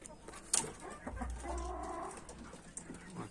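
Chickens settled on their perches inside a coop make soft, low clucks and murmurs, faint and intermittent over a quiet background with no talking.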